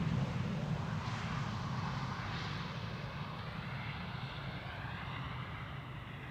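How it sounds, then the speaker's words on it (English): A KLM airliner landing at Schiphol airport gives a steady, loud broadband jet roar with a deep low rumble, fairly close and continuous, slowly easing off across the whole stretch with some wind noise on the microphone. "KLM Flight 1602 has landed. You will hear it on the microphone."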